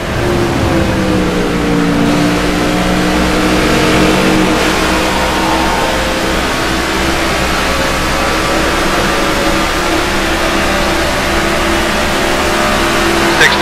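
Race car engines roar steadily in a NASCAR '15 stock car game at Kentucky, a loud, sustained drone with shifting pitch as cars run nose to tail around the oval.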